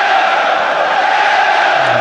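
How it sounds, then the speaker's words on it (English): A football stadium crowd at a Premier League match between Liverpool and West Bromwich Albion roars in a loud, sustained swell of massed voices filling the whole two seconds, with no commentary over it. "The crowd sensing it now."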